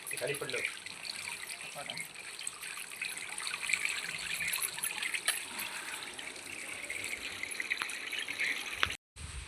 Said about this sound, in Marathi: ती आता आपण पाण्याने धुवून घेऊया